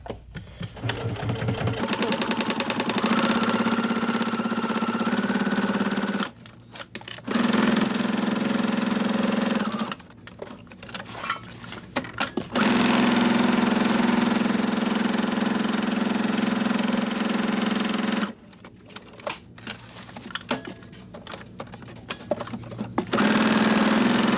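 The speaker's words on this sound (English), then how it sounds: "So now I'm going to sew this using this as the edge." Sewing machine stitching through a Kraft-Tex tote bag seam with back stitching at a major intersection, a loud, close, steady mechanical hum in three long runs broken by short pauses.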